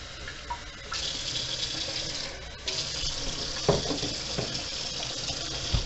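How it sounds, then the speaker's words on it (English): Hot tap water gushing steadily into a sink, a constant rushing hiss that shifts in tone as the stream changes partway through. "Run your water on hot."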